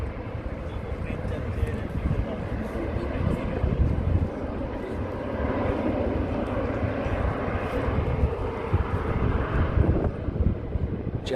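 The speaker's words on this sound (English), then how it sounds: "That's a large plane." A large British Airways jet near SFO gives off a steady, broad engine roar that holds for the whole stretch, with wind noise on the microphone.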